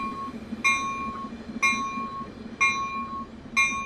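A CalTrain Baby Bullet train rolls along in Train Sim World 2 with a low steady rumble, while a sharp high electronic beep repeats about once a second over it.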